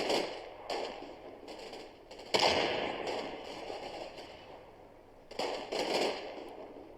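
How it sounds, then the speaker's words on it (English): Distant gunfire crackles in the Combat Mission Red Thunder war game, with scattered sharp bursts and pops arriving irregularly at low volume, no voices. "They start to receive incoming fire from the Kremlin woodyard."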